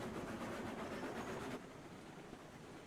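A train rolls along the tracks in the game Railroads Online, a faint, steady rumble with rhythmic wheel clatter that drops slightly in level partway through, with no voices.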